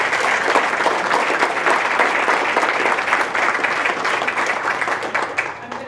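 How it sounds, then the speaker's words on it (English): A seated audience at a 2018 Valentine Lady award ceremony applauds in a sustained, dense wave of clapping that fills the room and fades slightly at the end. "So I know we just applauded them, but if we could give them each another round."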